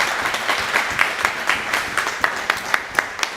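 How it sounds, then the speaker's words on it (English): Audience applause after the final of a snooker tournament, a steady wash of many hands clapping with a few sharper claps standing out, fairly close and continuous throughout. "Come on, give a round of applause."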